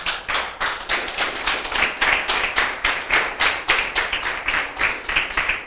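A church congregation claps together in a steady, fast rhythm, the close, bright hand claps repeating evenly and loudly with no talk over them.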